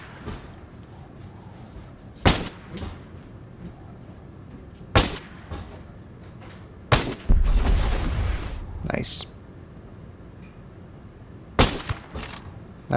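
Gunfire against an enemy turret in Ghost Recon Breakpoint: sharp single shots crack out at spaced intervals, with one heavier burst that trails into a noisy crash and rumble. Quieter ambient noise fills the gaps between shots.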